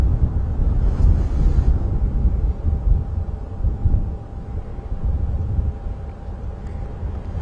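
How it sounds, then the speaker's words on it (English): Wind gusts across an open savanna crest in a safari drive setting, buffeting loudly with surging, uneven low rumble that eases slightly midway before picking up again, with no talk. "Hear that wind gusting."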